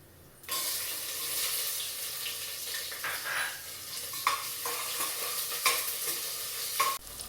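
Steady sizzling of chopped large onions frying in a pan, with occasional stirring clinks and scrapes, close and fairly loud throughout.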